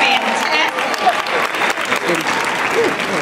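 Sustained applause from a crowd after a dance performance at a Jabberwock event, steady and fairly loud throughout with light cheering mixed in.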